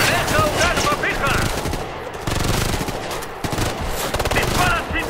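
Mounted machine gun hammering out sustained automatic bursts in Ghost Recon Future Soldier, loud and nearly continuous across the whole stretch, with short gaps, scattered distant shots and shouted voices mixed in.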